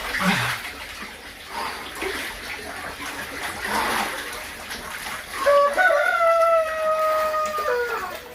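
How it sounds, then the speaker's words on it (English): Chickens calling outdoors, with a rooster crowing toward the end in a long, drawn-out call over a steady background of water and ambience. "Yeah, chickens."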